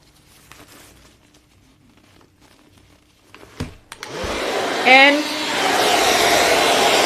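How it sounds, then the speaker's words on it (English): A hair blow dryer runs through a roller set attachment on natural hair: after some handling noises and clicks, a loud, steady, broad whoosh switches on and continues close up, and a voice speaks briefly. "You attach your blow dryer to it."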